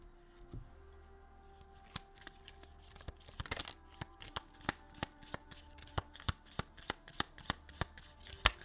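A deck of tarot cards is shuffled close up, first with soft rustling, then a long run of sharp, evenly spaced riffling snaps. No one speaks.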